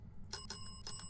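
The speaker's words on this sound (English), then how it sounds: "Oh, we got another bell!" Bell ringing in the Phasmophobia video game, three quick bright metallic dings in a short burst, fairly faint over a low background hum, no talk.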